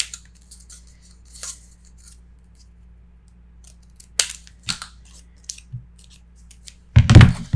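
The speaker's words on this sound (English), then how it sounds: "I am going to trim my corners." Paper corners trimmed for a Stamperia Casa Granada mini album: a few quiet snips and small handling clicks spread across the clip, ending in one louder, closer crunching cut.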